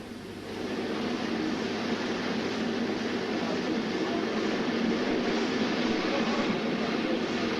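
A steady, heavy mechanical rumble of a GWR Hall class steam locomotive shunting in sidings nearby, continuous and even throughout with a broad roar and no clear pauses.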